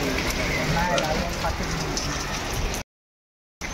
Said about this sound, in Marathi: पाऊस तेवढ्याने जोरदार पडतोय ना